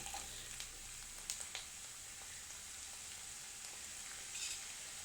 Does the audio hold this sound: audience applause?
no